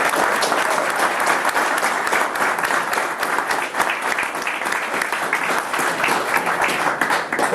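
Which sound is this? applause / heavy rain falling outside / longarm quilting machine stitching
applause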